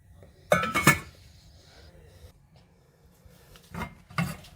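A lid clinks onto a cooking pot of light soup with a couple of sharp metallic knocks, a faint settling clink following a few seconds later, otherwise quiet.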